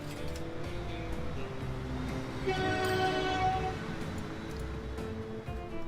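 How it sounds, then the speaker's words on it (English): Steam train running in the Transport Fever video game, a 1944 locomotive at about 125 km/h, giving a steady mechanical rumble with a sustained whistle-like horn tone midway. "Feels so strange that they made a new steam train in 1944."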